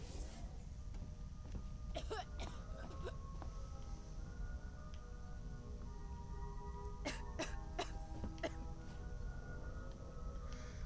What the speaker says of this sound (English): That's got to be Lambert coughing